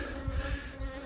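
Honey bees buzz steadily at a beekeeper's hives, a faint continuous drone with a low, wavering hum and no voices.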